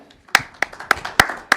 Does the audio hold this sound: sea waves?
no